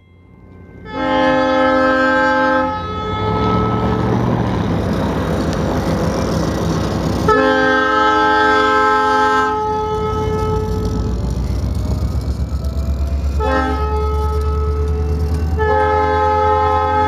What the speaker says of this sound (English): The horn's going to sound in a sec.